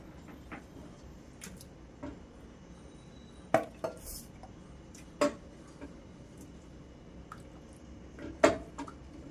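Mutton chops are served from a pot with metal utensils, giving a few scattered clinks and scrapes against the vessel, close but soft, separated by quiet stretches over a low background hum.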